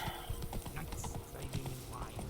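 Hoofbeats of a galloping horse in The Witcher 3 video game, a quick rhythmic clip-clop of hooves on the ground continuing steadily, close and clear.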